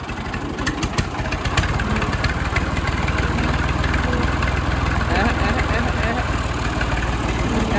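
A steady, rumbling tractor engine idles close by with a constant low throb and continuous mechanical vibration throughout.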